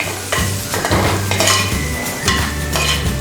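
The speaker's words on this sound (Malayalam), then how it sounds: "1/2 സ്പൂൺ മുളക് പൊടി ചേർത്ത് നന്നായിട്ടൊന്നുകൂടെ മിക്സ് ചെയ്യുക." Okra curry with chilli powder is stirred in a pan over a loud, steady sizzle, with repeated close metallic scraping and clinks of a spoon against the pan throughout.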